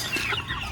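Chickens on a Filipino backyard farm cluck softly in a short burst, a few low murmuring notes over faint background noise.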